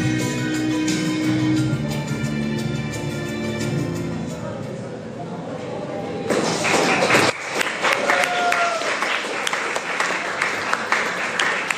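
An audience applauds after a song performed by a group at a religious gathering, a dense burst of clapping that follows a stretch of music and talk.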